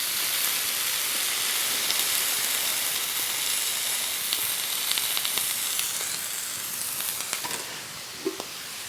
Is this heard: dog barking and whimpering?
no